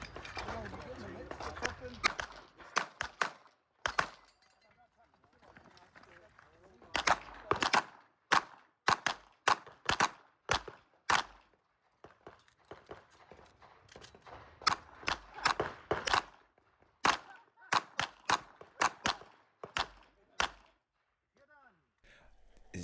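Rapid handgun shots from a Legion pistol in a Carry Optics practical shooting stage, sharp cracks in quick pairs and strings with short pauses between bursts, fairly close and loud.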